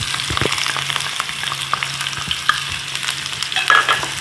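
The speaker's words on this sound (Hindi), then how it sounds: "मैंने ऑयल ये पहले से गरम के लिए रख दिया था। इसमें मैं ये प्याज ऐड करूँगी।" Onion goes into oil already heated in a kadai, a continuous close sizzle and crackle with spatula stirring and a few soft metallic taps.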